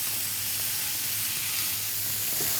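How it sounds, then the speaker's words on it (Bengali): Fish frying in a pan of oil for a mixed noodles dish, a steady close sizzle with a faint low hum beneath, continuous and unbroken with no voices. "ব্রাউন কালার হলে তুলে নিব আমরা আচ্ছা একটুখানি ভাজা ভাজা করছি"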